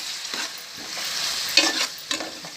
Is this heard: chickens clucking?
no